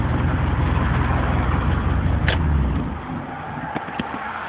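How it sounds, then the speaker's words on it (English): A car's engine started by push button fires up and settles into a steady idle, a low continuous rumble with a brief whine near the start. "and start the car."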